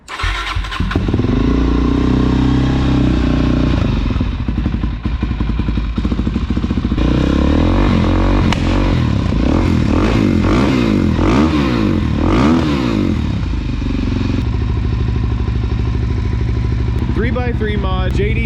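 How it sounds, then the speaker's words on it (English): A 2021 Suzuki DRZ motorcycle fitted with a Yoshimura full exhaust, 3x3 mod, JD jet kit and cut airbox revs loudly and close, its engine note rising and falling through repeated throttle blips over a steady idle. "Yoshimura Full Exhaust, 2021 Suzuki DRZ"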